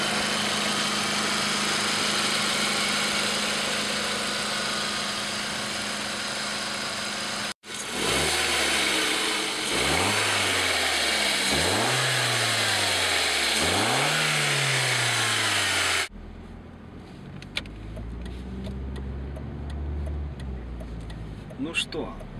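Audi A4 engine under an open hood, a steady idle followed by three quick revs that climb and fall in succession, then a rougher, quieter idle with light ticking, close and loud.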